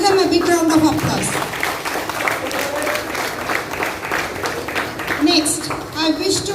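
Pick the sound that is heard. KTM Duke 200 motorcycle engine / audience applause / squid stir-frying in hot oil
audience applause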